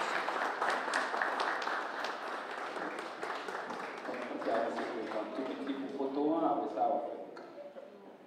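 Applause for Mr. Antoine Auguste at a Haitian diaspora ceremony in Santiago, Dominican Republic: a crowd clapping steadily at moderate distance, fading toward the end, with voices mixed in.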